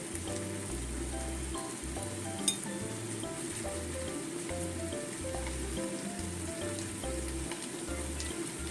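Root vegetables with lotus root and shiitake mushrooms sizzle steadily in a pan as they are stir-fried and simmered, with a constant crackling hiss and soft stirring clatter underneath. No one speaks.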